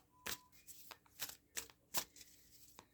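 A deck of tarot cards is shuffled up close in quiet, crisp riffling bursts, about six or seven short flutters in an uneven rhythm.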